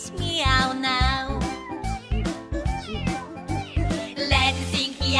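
Repeated sung and cartoonish cat meows within a cheerful kids' nursery song, voiced over bouncy musical backing, several drawn-out meow notes in a row; a voice imitates the cat.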